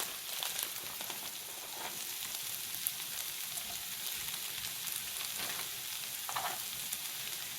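Chicken chilaquiles with egg and melting cheese frying in a pan give a steady, close sizzle and crackle throughout, with occasional soft pops and stirring scrapes, and no talking.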